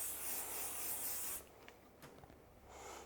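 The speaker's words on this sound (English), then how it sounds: "a little bit of hairspray" Hairspray jets onto styled hair in a short, steady hissing burst for about a second and a half, then stops, leaving faint rustling and quiet handling noises.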